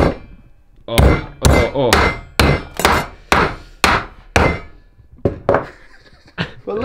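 Mounting a star nut into the steerer of a dirt jump bike fork, a series of about a dozen sharp metallic hammer strikes in an uneven rhythm, loud and close, with a few short exclamations from a voice between blows.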